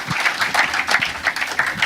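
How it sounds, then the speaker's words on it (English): An audience applauds a child at the Logos Hope ship's opening ceremony, a dense, steady patter of many hands clapping up close for about two seconds with no voices over it. "let's give him another round of applause"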